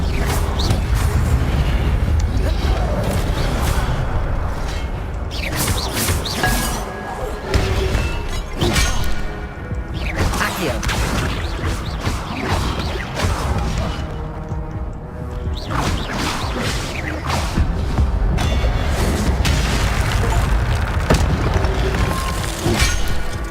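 Fire spells and impacts in combat in Hogwarts Legacy, with repeated booms, crashes, thuds and whooshes in irregular bursts throughout, loud and busy.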